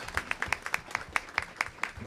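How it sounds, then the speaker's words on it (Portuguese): A small audience at a commission session on religious racism claps together, a fairly close patter of individual hand claps in a loose rhythm with no speech over it. "salva de palmas"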